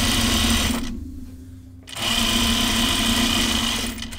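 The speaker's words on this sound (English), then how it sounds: "I'm just going to edge stitch it. So I'm just stitching along the edge there," Sewing machine edge stitching fabric with cream thread, a steady close whirring hum that runs, pauses for about a second, then resumes running.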